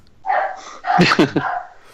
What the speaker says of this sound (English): I'm gonna shoot that fucking dog